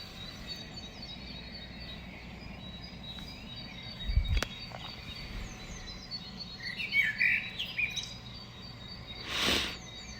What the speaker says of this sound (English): Birds are up.